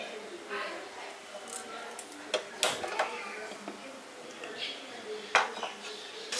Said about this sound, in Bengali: তার জন্য আমি কড়াইটা আগে বসিয়ে দিচ্ছি গ্যাসটা অন করে।